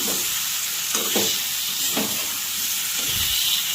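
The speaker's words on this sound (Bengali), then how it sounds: "কাঁচা লঙ্কা দিয়েছি সব দিয়ে ভালো করে কষিয়ে দিয়ে জল দিয়েছি" Green chilies, ginger-garlic paste and spices sautéing in a pan, a steady broadband sizzle with a few soft stirring scrapes, close and continuous, no voices.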